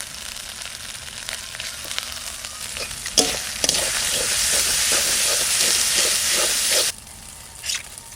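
Ginger, garlic, cumin and coriander masala sizzles and is stirred in a pan, a steady frying hiss that jumps louder midway with rhythmic scraping strokes, then drops back to a softer sizzle.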